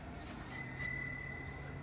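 An electric unicycle's built-in electronic bell chimes once, a thin ringing tone over quiet background noise and faint rumble.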